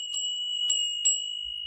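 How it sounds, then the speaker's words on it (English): A small apple-shaped school bell sustains a clear, pure ringing tone in a quiet room, struck again with two more soft strikes as the ring lingers. "this is an apple bell for school"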